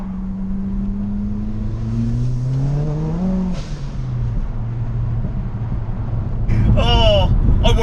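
A 355 bhp hybrid-turbo Ford Focus RS engine rising in a long loud rev, dropping off, then droning on near and steady, with a voice talking over the engine noise.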